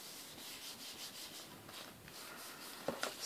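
Paper being rubbed by hand over a Gelli printing plate coated with acrylic paint, giving a soft, steady, close scuffing texture with a few louder strokes near the end, no one talking.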